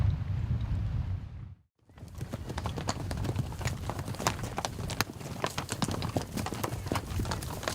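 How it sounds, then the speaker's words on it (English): A herd of horses stampeding over rugged ranch terrain near Yellowstone, a dense, continuous drumming of many hooves after a brief near-silent gap, loud and close. "It's a sight that never gets old, a stampeding horse herd"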